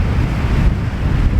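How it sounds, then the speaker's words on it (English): Strong gusts of wind buffet an exposed mountainside above a burnt glen near Glenrosa on Arran, roaring steadily and close as they batter the microphone. "Windy here today, hope you can hear me."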